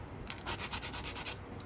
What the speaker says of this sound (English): I'm just letting the sanding stick do the work.